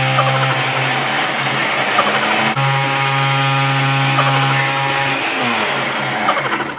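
Blender crushing Oreo cookies with a loud, steady motor whine that shifts pitch midway as the load changes, close and continuous, with the grinding texture of the cookies underneath.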